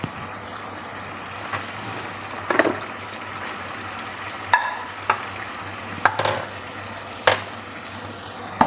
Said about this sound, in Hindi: मैं भिंडी फ्राई करूँगी।